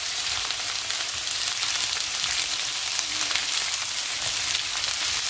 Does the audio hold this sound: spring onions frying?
yes